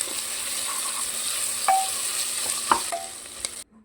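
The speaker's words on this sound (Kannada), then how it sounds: "ಈಗ ಚೆನ್ನಾಗಿ ಮಿಕ್ಸ್ ಮಾಡಿಕೊಳ್ಳುವ." Raisins and green masala frying in ghee for ghee rice while being stirred, heard as a steady close sizzle with a few brief scrapes and clicks of the utensil, stopping abruptly at the end, with no talking.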